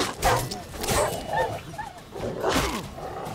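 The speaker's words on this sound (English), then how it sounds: "Come here, wild dog." Wild dogs in The Witcher 3 bark and whimper in short yipping bursts, fairly close and loud, amid combat noise from the game.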